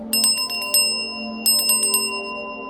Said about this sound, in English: Maybe we'll just ring the bell.